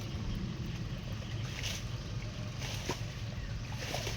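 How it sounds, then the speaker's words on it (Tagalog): A 4x4 water pump drives a strong flow of irrigation water onto an eggplant field, giving a continuous low engine rumble mixed with rushing water throughout. "Kasi 4x4 po ang mga water pump natin ginagamit."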